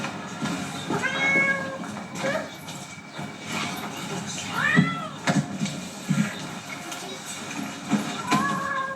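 A pet cat meows several times in a busy household, the rising cries close by and fairly clear against background voices and household noise.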